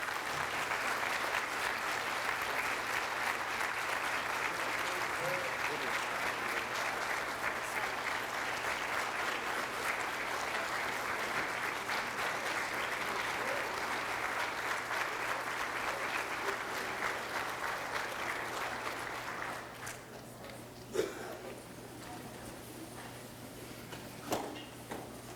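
Sustained audience applause fills a hall at a high school Hall of Fame award ceremony for an inductee couple, loud and steady for about twenty seconds before fading to a few scattered claps.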